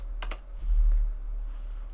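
A few quick keystrokes clack on a computer keyboard while configuring a network lab, short clicks followed by a low background hum.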